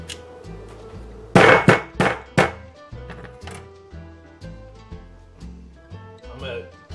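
A knife cuts through a whole rutabaga in the kitchen, giving a cluster of several sharp, close chopping thunks followed by softer knocks, with quiet steady tones underneath.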